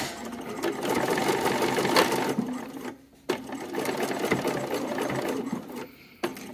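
A sewing machine with an even feed foot stitches T-shirt knit fabric in steady, close whirring runs, with brief pauses around 3 and 6 seconds where the motor stops before starting again.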